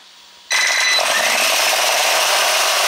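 An Axial RYFT RBX10 RC rock crawler with a two-speed transmission runs in its low crawling gear, a close, loud, steady electric motor and gear whine that starts abruptly and holds.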